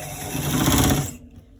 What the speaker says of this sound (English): As you are stitching, then you are turning it to get the way you wanna stitch it.